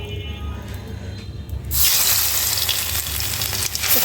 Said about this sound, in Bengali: মাছগুলো আজকে না রান্না করে শুধু মচমচে করে ভেজে রাখবো